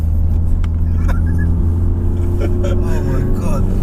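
A 600 BHP all-wheel-drive Seat Cupra accelerates hard with a steady, loud engine roar and rumble heard from inside the car, while occupants speak excitedly over it.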